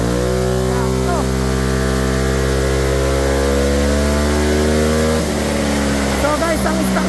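Honda ADV160 scooter, its ECU flashed, running at a steady 3,000 RPM in Guagua, Pampanga, a loud, close, continuous engine drone that shifts slightly near the end, with a voice talking over it.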